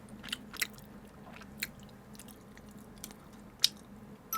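Soft chewing of salmon sushi close to the mic: a few quiet moist bites and crunchy clicks scattered over a faint background, with no talking.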